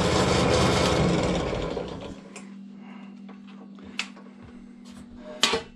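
A ZJ 4110 drill press whirs loudly, then its loose spindle bogs down under slight pressure and stops, leaving a steady low electrical hum with a few faint clicks and taps.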